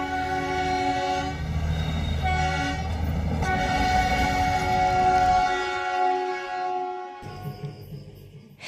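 The Darjeeling Mail passenger train sounds its long, loud horn in sustained blasts over the rumble of rolling carriages, fading near the end.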